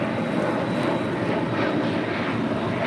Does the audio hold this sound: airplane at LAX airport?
yes